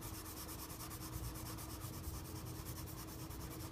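A marker rubs steadily back and forth across paper while a puzzle-piece shape is colored in, making a continuous close scratchy swish with no pauses and no voices.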